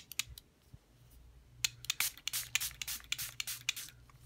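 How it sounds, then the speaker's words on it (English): Several short, sharp hissing spritzes from a makeup setting spray bottle, close and quick, in uneven bursts with small handling clicks between. "spray it with the setting spray"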